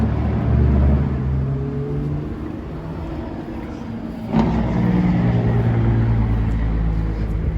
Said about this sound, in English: Pardon the noise in the background. I'm parked near a freeway.